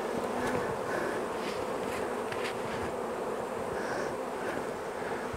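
Honey bees swarm around an open, queenless hive while honey frames are pulled, giving a dense, steady buzzing drone close to the microphone throughout, with faint wind noise and no talking.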